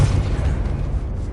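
A Confringo blasting spell detonates in Hogwarts Legacy, a loud, deep booming burst with heavy low-end rumble that dominates the moment and slowly tapers without fully fading.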